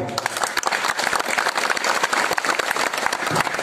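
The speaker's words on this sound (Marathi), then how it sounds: "पुरुष मंडळी टाळ्या वाजवते" Applause from an audience at a kirtan gathering in a village, with men clapping in dense, continuous bursts that stay loud and close throughout.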